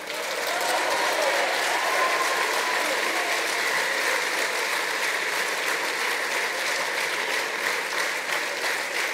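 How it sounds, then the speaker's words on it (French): Sustained audience applause at a Socialist Party summer university gathering in La Rochelle, a dense, steady clapping from a large crowd lasting throughout without pause, no voices standing out above it. "n'applaudissez pas trop parce que ça va être décompté de mon temps de parole"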